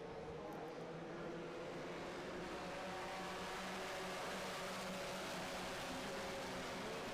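Formula Regional Americas race cars at Indianapolis take the green flag, their engines merging into a continuous, dense roar that holds steady and loud for several seconds with no clear voices.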